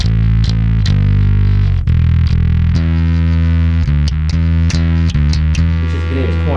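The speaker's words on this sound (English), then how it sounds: "I've got a slightly more subtle sort of fuzzy saturated amp sound I can have as well" Bass guitar played through a fuzzy, saturated amp distortion, a loud sustained gritty tone with plucked notes changing in a steady riff and a constant low buzz underneath.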